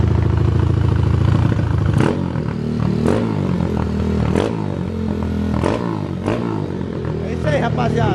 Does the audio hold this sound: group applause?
no